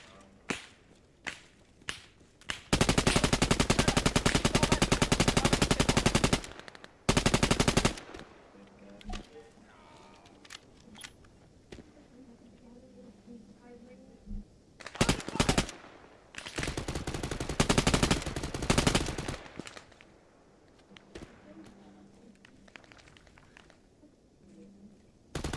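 Bursts of automatic gunfire from the ARMA 3 military shooter, in a fight over an airport: sharp cracks and long sustained volleys alternating with quieter pauses, some shots distant, with occasional talk in between.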